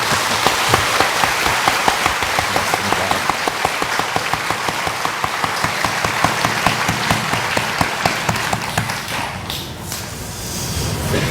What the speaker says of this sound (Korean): 육교구 박수 한 번 더 해드립시다